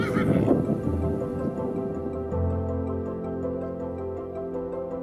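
A horse at a stable gives a loud whinny at the start, with hoof clops and a steady ticking in the background as the neigh fades into ongoing barn noise.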